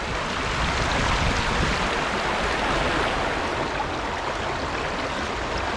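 River water rushing steadily through a gold-sluicing box full of gravel, a loud, dense, unbroken wash close to the microphone.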